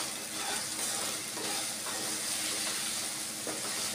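Chopped okra frying in a pan with salt and turmeric, a continuous close hissing sizzle with faint stirring scrapes and small crackles throughout.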